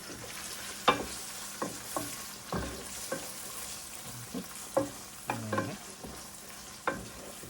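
Black pepper being stirred into ackee and saltfish in a pan, with repeated sharp spoon scrapes and knocks over a soft sizzle. The strokes are close and irregular, with no talking.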